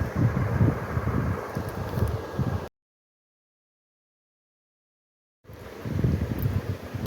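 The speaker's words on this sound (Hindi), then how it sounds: "देखिए बहुत ज़्यादा हवा चल रही है" Strong wind blowing outdoors, a steady broadband rush with gusty buffeting against the microphone, broken by a stretch of complete silence midway before the blustery noise returns.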